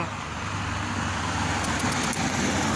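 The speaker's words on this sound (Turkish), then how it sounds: "oradan da araba geliyor" A car approaches on a road as a steady, loud rumble of engine and tyre noise with constant traffic hiss throughout.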